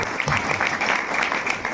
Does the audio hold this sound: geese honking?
no